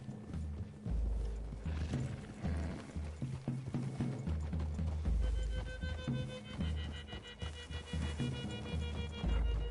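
Horses in Red Dead Redemption 2 walk at a steady, rhythmic clip-clop of hooves, moderately loud and close, with sustained music tones running underneath.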